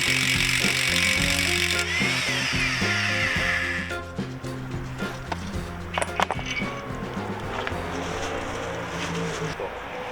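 Power tool driving a 25mm socket to loosen the front axle center bolt on a Volkswagen Golf 6, loud whirring and hammering bursts close up, then quieter clanks and workshop noise.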